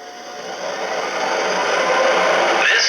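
An MTH RailKing CTA 3200 Series model subway train runs its extended startup sequence, a steady electric whirring hum that swells slightly and holds, no voices.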